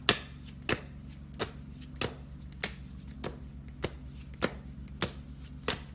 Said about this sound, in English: as I shuffle the Romance Angels deck